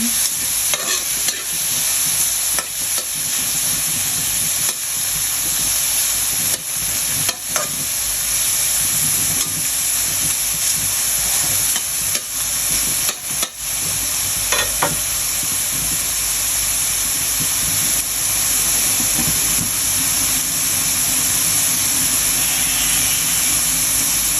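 Pork, mushrooms and mixed vegetables sautéing in a pan, a loud, continuous hissing sizzle up close, punctuated by repeated spatula scrapes and clacks against the pan.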